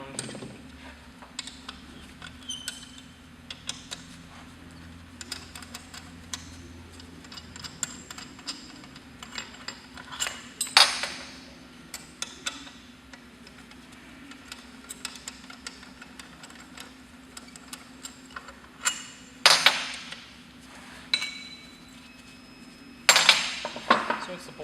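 Sharp metallic clinks and taps, scattered and close over a faint hum, come from an M8 Allen key removing the six bolts on the generator top of an Anver M100-series mechanical vacuum lifter.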